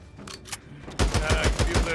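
Sniper gunfire in the video game Days Gone: a burst of several loud, close shots in quick succession, with a voice heard before the shots.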